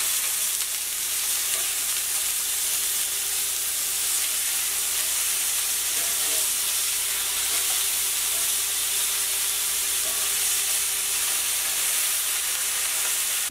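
Moose meat fries in a pan, giving a steady sizzling hiss with soft crackles and occasional stirring scrapes. It is close and continuous, with no talking.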